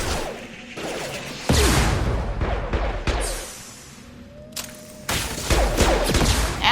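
Gunfire and impacts in a Mass Effect 2 firefight, with bursts of shots, crashes and whooshes coming in uneven waves, loud and close, over a busy game soundscape.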